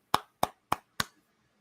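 Four crisp hand claps in an even, steady rhythm, close and distinct with short gaps of silence between them.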